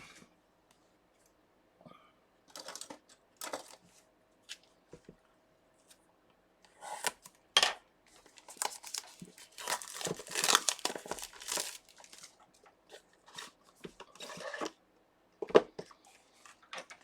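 Packaging of an Ediag Elite OBD2 scanner being opened, with sporadic close crinkling, rustling and tearing of plastic and cardboard, heavier in the middle, and quiet gaps between. No one speaks.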